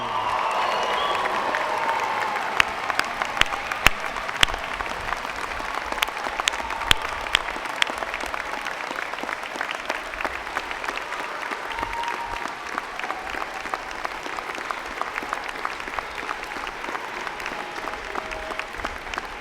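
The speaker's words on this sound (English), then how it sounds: "join me in applauding the amazing graduating class of June 2017" A large audience at a university convocation ceremony gives sustained applause for the graduating class, dense clapping with scattered sharper claps that gradually thins toward the end.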